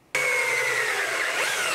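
A power drill whirs steadily into plexiglass, starting abruptly and holding a high, grinding tone with a slight pitch shift near the end.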